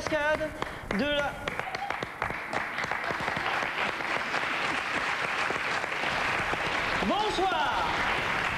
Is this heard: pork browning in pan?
no